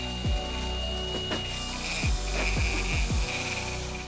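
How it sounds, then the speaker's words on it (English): A die grinder strips old oily metal from an engine with a steady high whine, broken by several sharp, low scraping bursts as the tool bites into the metal. "we're going to die grind this, and we're going to take all the old oily metal off"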